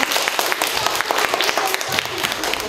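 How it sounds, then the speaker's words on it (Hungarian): A classroom of schoolchildren claps together in a sustained burst of applause at close range, with young voices chattering underneath. "akkor tapsoljuk meg Andort"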